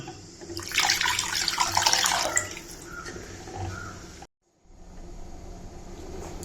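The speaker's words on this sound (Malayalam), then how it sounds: "ആവശ്യത്തിന് വെള്ളം ചേർക്കുക" Water poured into tomato rasam, a bright splashing gush for the first seconds that eases into a softer trickle, then a brief silence before low background noise resumes.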